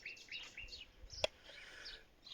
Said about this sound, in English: Woke up to sunshine, cheeping birds.